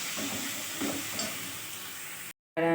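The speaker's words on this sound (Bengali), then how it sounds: "এই আলুটা দিয়ে আমি আবার একটু ভালোভাবে কষিয়ে নিচ্ছি" Potatoes being sautéed in a hot pan before water goes in, giving a close, continuous sizzling hiss with a few soft stirring scrapes, then a brief gap and a louder burst of frying at the end.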